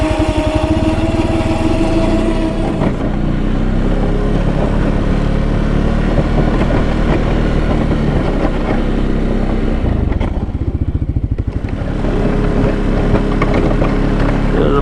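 A Can-Am Outlander 700 ATV fitted with a plow runs nearby, its engine droning loudly and steadily with a low rumbling beat and a slight dip midway while plowing.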